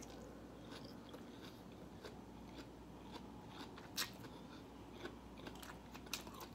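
Someone eating homemade chicken tacos, with soft repeated bites and crunchy chewing close to the mic over a low steady background, plus a few sharper crisp crunches.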